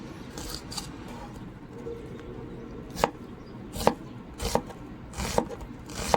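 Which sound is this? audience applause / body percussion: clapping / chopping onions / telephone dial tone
chopping onions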